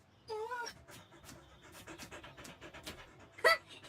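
A dog at a market stand panting in quick, breathy bursts, close and moderately loud, with a brief higher whine or squeak near the end and no clear talk.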